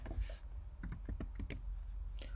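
Clicky keystrokes on a computer keyboard while coding in Angular, a close, irregular run of separate taps, some quick bursts and small gaps, over a low steady hum.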